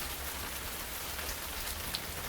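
Gentle rain falls steadily in an even, soft hiss with a faint low rumble beneath, with no voices heard.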